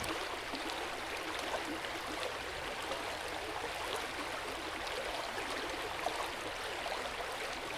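A stream trickles gently and continuously as a soft, even wash of water, faint and steady throughout with no voices.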